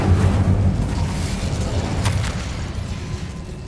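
In Hogwarts Legacy, an Incendio fire spell is cast with a loud, sustained rumbling whoosh like a burst of flame that stays dense and close throughout.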